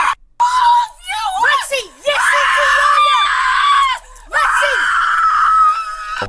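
A woman screams repeatedly in long, loud, wavering shrieks broken by short gaps, close and dominant throughout.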